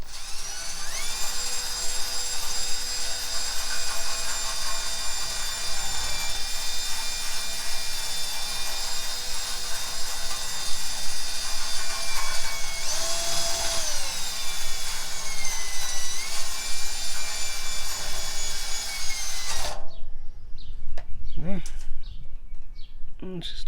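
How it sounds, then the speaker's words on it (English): A wire wheel cleaning a Mitsubishi Eclipse GSX subframe under light pressure: a loud, steady high-pitched whine with a rough scraping edge that runs continuously for about twenty seconds, briefly shifts pitch midway, then cuts off abruptly. "we're just going to go around in there with the wire wheel"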